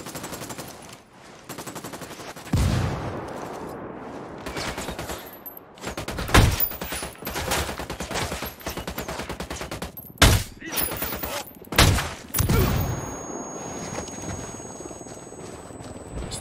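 Heavy gunfire in Tom Clancy's Ghost Recon Wildlands, with rapid automatic bursts and several sharp, loud single cracks spread across the battle, plus short shouted voices in between.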